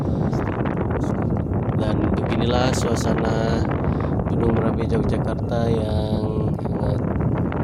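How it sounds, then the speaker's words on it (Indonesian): Strong wind buffets the microphone in front of the lava dome crater of Mount Merapi, Yogyakarta, a loud continuous roar running under a voice speaking throughout. "Saya sampaikan bahwa anginnya cukup kencang"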